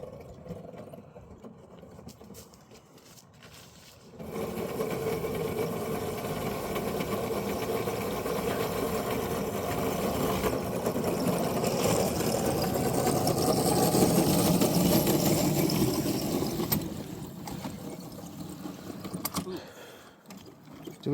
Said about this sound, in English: At this point, the engine is really struggling. We're at full throttle, and it's barely moving.